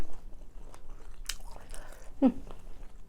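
Someone chews a mouthful of rice with chili, with soft irregular bites and crunches close to the mic and one louder bite near the end, in a quiet room.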